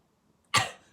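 A person mimics a cough with their voice, giving one short, sharp, loud burst after a near-silent moment and letting it trail off quickly.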